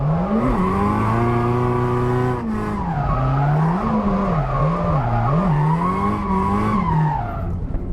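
Race car lapping a track, its engine droning loud and close with pitch rising and falling through gear changes and corners, sustained for several seconds without any voices.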